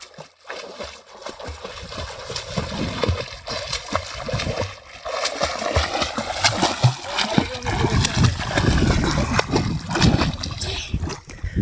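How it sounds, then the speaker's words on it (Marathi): People swim in chest-deep water, sending up repeated close splashes and sloshing that build steadily in intensity, with voices talking and calling over the churning water. "तर मित्रांनो आता आम्ही पोहतो बघा"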